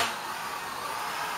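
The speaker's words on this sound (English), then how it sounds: "because of that you're gonna hear the drilling" Power drilling from construction work inside a house: a steady, fairly faint whirring hiss that holds for a brief moment, with no voices over it.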